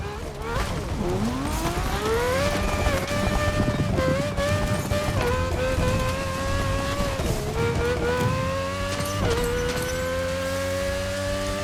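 Rally car with a rally wheel set driving and drifting on dirt in The Crew Motorfest, a loud steady engine note rising and falling through gear changes, close and continuous with tyre noise beneath.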